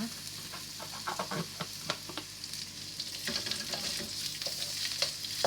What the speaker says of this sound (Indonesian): Kita tumis yang bawang merahnya.